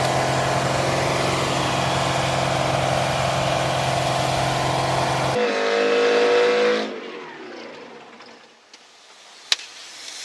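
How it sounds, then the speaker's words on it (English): A Detroit diesel engine in runaway, screaming flat out at full RPM, a loud sustained roar for several seconds that then cuts off abruptly, leaving a fading rumble and a few faint knocks. "this Detroit went from naught to, flat out"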